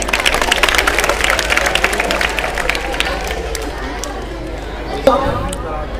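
Audience at a school debate competition applauding the participants: dense, fairly close clapping and crowd noise under background chatter, easing off toward the end with a sharp bump near the close.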